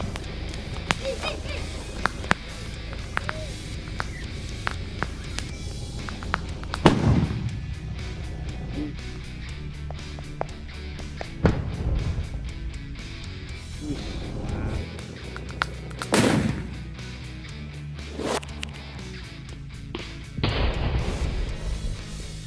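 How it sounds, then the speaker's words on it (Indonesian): A modified Super Bell firecracker goes off outdoors as several sharp, loud bangs spread across the stretch, with quieter crackling and background noise between the blasts. "selanjutnya ini dia petasan ini Super Bell, kita modifikasi seperti ini."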